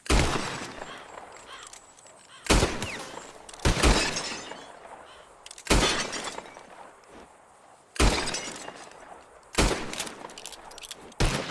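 Revolver shots blast and glass bottles shatter in Red Dead Redemption 2, six loud, widely spaced bangs, each followed by a splintering crash and fading debris, with no talk.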